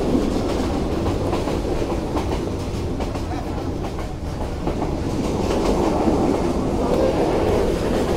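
A passenger train runs along the rails on a trip to Sreemangal, heard from inside with a loud steady rumble and rhythmic clickety-clack of wheels over rail joints.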